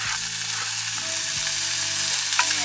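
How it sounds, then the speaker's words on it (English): Bacon sizzles steadily in a pan at a campsite cook-up near Rainbow Beach, a dense continuous crackle with a low hum running underneath and no voices. "First thing we're doing is frying up our bacon."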